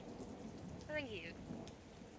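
Heavy rain with thunder plays as an ambient effect during a tabletop game, a steady hiss of rain with a brief swell near the middle.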